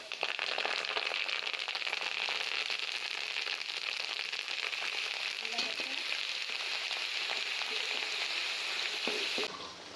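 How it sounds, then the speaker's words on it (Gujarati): Cumin seeds sizzle in hot oil for the tempering of sabudana khichdi, a fasting dish. The frying crackle is steady and close for the whole stretch, with no voices over it. "पहेला तेल गरम थई गयुं छे तो आपणे जीरुं नाखीशुं।"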